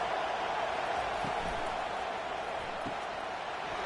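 Stadium crowd at a UCLA college football game, a constant dense roar of thousands of fans filling the space, with no distinct cheers standing out.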